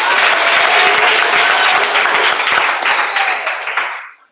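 A church congregation bursts into loud, dense applause, sustained clapping filling the space before it tapers off and stops abruptly near the end.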